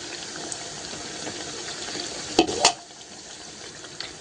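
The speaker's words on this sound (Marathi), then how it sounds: "असे मस्तपैकी सोनेरी रंगावर तळून घ्यायचे आहेत" Methi pakoras of fenugreek-leaf batter frying in oil over a low flame, a steady soft sizzle with a couple of sharp clinks near the middle, then quieter bubbling.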